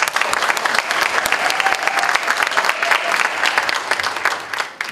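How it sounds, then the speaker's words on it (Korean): A room full of people at a political party event applauding steadily, dense sustained clapping for about five seconds that tapers off near the end. "고맙다는 박수 한번 부탁드리겠습니다"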